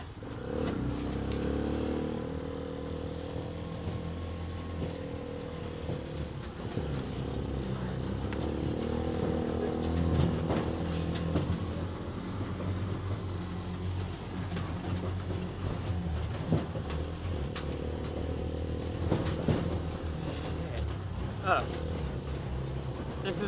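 A motorcycle engine idles and runs in a desert oasis, a low steady drone that is strongest at the start. People talk over it throughout.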